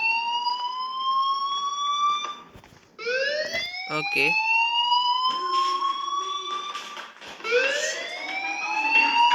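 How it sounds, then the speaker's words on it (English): A loud electronic fire alarm wails in rising, repeated sweeps in the video game Life is Strange, with brief breaks and a short spoken word mixed in. "Do you hear that fire alarm?"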